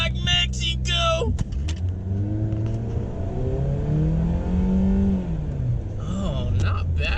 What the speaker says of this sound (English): Building a little brake boost here.